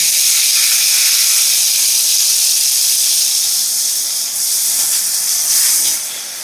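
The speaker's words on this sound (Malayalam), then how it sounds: "നമ്മൾ പാൻ വെച്ച് വെളിച്ചെണ്ണയ്ക്ക് ചൂടായി വന്നപ്പോൾ നമ്മളിതാ വഴുതനങ്ങ ഇട്ട് കൊടുക്കണം" Eggplant fries in hot coconut oil in a pan, producing a loud, continuous hissing sizzle that holds steady and eases slightly at the end.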